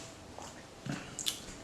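Someone chewing food up close, with a few soft wet squishes and crunchy bites spaced irregularly over quiet background.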